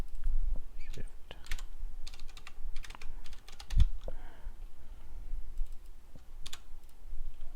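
Typing on a computer keyboard, close and fairly quiet, with uneven bursts of key clicks and a louder thump partway through over a low background hum.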